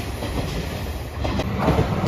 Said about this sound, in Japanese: 佃駅8時37分通過、特急剣山徳島駅、キハ185系特急起動車です。